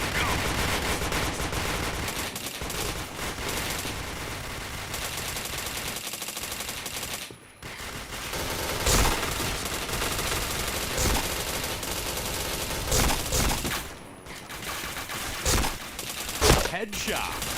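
Rapid gunfire in the shooter game Point Blank, dense bursts of automatic shots nearly nonstop with brief gaps, loud and continuous throughout.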